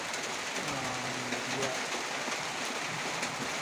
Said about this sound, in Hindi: बारिश में तो नहीं जा सकता है क्योंकि बारिश दे रहा है